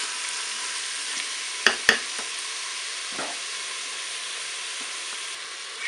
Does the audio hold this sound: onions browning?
yes